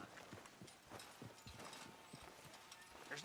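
Horse hooves clip-clopping at a steady walking rhythm in Red Dead Redemption 2, faint and fairly even, with game ambience underneath.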